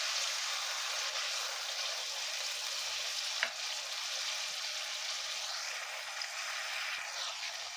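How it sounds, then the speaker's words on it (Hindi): Garlic paste fries in a pan for a chicken and ridge gourd curry, giving a soft, even, continuous sizzle with a couple of faint taps. "टू टेबल स्पून लहसुन का पेस्ट ऐड कर लेंगे। तीन चार मिनट अच्छी तरह से फ्राई करेंगे।"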